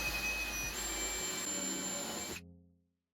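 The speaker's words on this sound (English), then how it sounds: "you can drill your hole for the new doorknob" A power drill whines steadily at high speed, loud and close, boring a doorknob hole through an interior door, then cuts off abruptly and spins down into silence.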